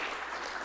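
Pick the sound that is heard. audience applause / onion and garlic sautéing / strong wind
audience applause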